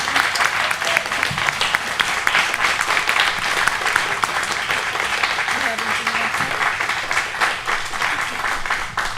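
A church congregation applauds during a pet blessing service, sustained, even clapping from a large crowd that carries on without a break while a voice speaks faintly beneath it.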